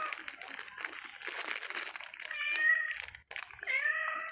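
A cat meows twice at close range, short wavering cries near the end, following crinkling, rustling sounds.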